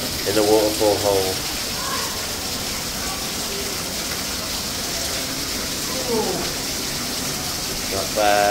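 Water pours and splashes steadily nearby from a waterfall on a jungle-themed course, with voices talking briefly over the rushing flow.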